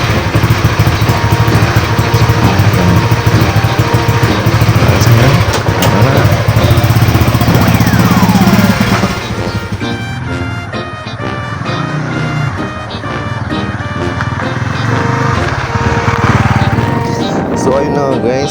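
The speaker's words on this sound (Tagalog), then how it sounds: "Sunod, start na natin ang motor." A motorcycle engine runs steadily and loudly close by, with a brief shift in tone partway through as it keeps idling and revving.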